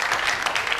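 A live show audience applauding, dense continuous clapping from a crowd, loud and close for a brief moment.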